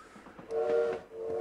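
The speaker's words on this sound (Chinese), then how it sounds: "它这个进入游戏还搞了一个这种火车鸣笛的这种音效啊" A cute train whistle effect sounds in the pixel-art RPG Little Witch in the Woods as the game begins, a single steady tonal toot rising over soft game ambience and briefly repeating.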